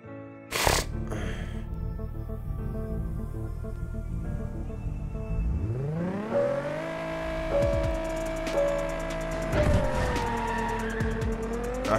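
A car in the Gear Club mobile racing game revs and accelerates, its engine pitch climbing and shifting through gears, loud and close, with a brief sharp burst near the start.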